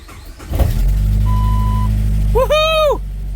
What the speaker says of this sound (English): Probably gonna crank for a minute